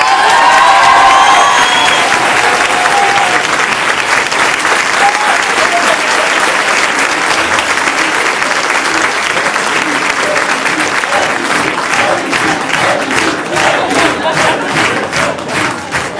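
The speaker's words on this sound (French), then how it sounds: "Je voudrais qu'on fasse un tonnerre d'applaudissements pour Laura Portebled" Loud, sustained audience applause at the grand finale of a live event, dense clapping mixed with cheers and shouts, swelling near the start and continuing steadily to the end.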